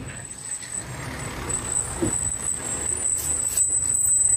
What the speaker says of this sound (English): that is a fire truck